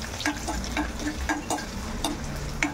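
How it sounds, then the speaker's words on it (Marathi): Steady sizzle of garlic frying in hot oil for tempering, with a spoon scraping and stirring the pan in an uneven rhythm, close up and moderately loud. "आणि आता आपण लसूण चांगला परतून घेत आहोत."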